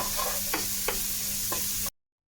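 Ginger and garlic frying in hot oil for a spicy crab masala, a close steady sizzle with a few soft stirring scrapes, cut off abruptly near the end.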